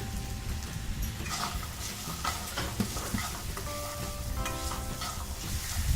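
Onion and peas being fried in the oil left from frying paneer, a steady close sizzle with spoon stirring and scraping in the pan, continuing throughout without talk.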